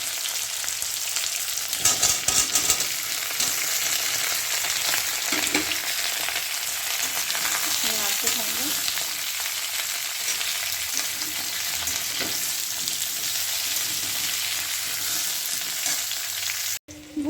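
Papaya and potato pieces fry in a pan with a steady, close broadband sizzle that runs unbroken for the whole stretch, with brief stirring scrapes near the start and a sudden cut at the very end.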